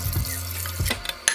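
Warm water pours from a tap into a mixing bowl for French bread dough, a short close splashing run with a faint clatter near the end.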